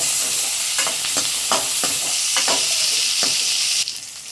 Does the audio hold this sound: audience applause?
no